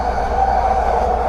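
A Vancouver Canada Line SkyTrain passing nearby, a loud, steady mechanical whine and rumble that holds throughout the short moment with no talking.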